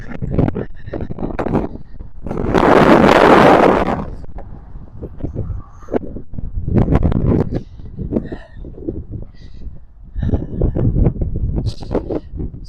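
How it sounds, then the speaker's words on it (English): Wind gusts buffet the microphone in a loud roaring burst outdoors near a horse, with more rumbling gusts around scattered talking and a few knocks. "So it's so windy"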